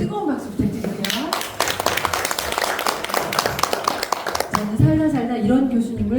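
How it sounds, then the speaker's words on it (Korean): Audience applause at a book launch ceremony for a local history journal, a dense burst of clapping lasting several seconds, with talk and voices over its start and end. "뜨거운 박수 부탁드릴게요"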